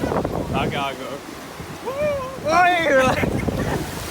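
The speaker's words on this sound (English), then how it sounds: "we finally made it to the beach" Wind buffets the microphone over steady surf at a beach, with several people talking and laughing throughout.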